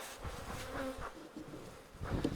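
Honeybees hum at a backyard hive in a faint, steady buzz. Individual insects drone past now and then, close but soft.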